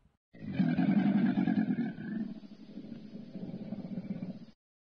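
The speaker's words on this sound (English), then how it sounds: "Komodo dragon." Komodo dragon vocalising in a kids' zoo animal-sound set: a loud, rough, roaring growl lasting about four seconds, strongest at the start and then trailing into a lower, rumbling rasp, heard alone.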